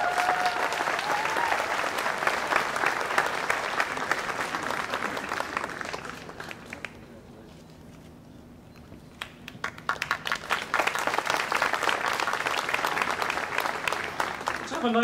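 An audience at the 2010 University of Oregon summer graduation ceremony claps in sustained, dense applause that fades to a lull midway, then swells back up with scattered sharp claps.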